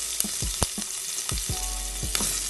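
Garlic sizzles loudly in hot oil for Bengali shukto, a steady close-up crackle with several sharp clinks of a spoon stirring against the pan.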